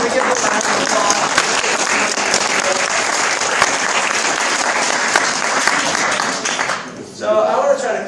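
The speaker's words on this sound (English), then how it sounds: "Can we give them a round of applause?" Loud, dense audience applause at an advocacy day gathering, steady for about seven seconds before dropping off briefly, then a burst of noise and talk follows.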